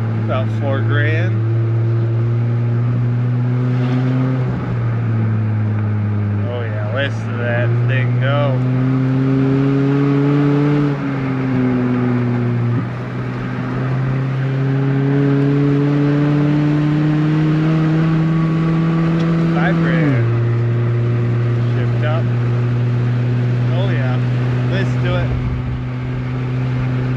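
A car engine pulling near 4000 rpm on an open road, loud and close, its pitch climbing through each gear and then dropping at the shifts, several times in a row, with talk heard over the engine noise.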